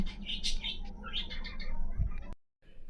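Pet birds nesting in a cage give repeated high chirps and calls, close and fairly clear over a low background rumble, before the sound cuts off abruptly.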